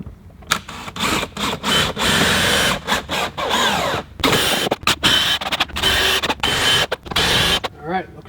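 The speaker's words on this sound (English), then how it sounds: "We're using these lag screws." A power drill drives lag screws into timber while a small timber-frame awning is installed, in repeated loud whirring bursts separated by short pauses, each ending as the screw seats, close by.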